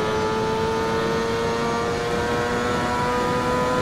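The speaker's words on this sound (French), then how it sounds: "Sur un moteur V8." A V8 race car engine in the Assetto Corsa racing game holds a loud, steady high rev with a sustained whining drone throughout, with no voices over it.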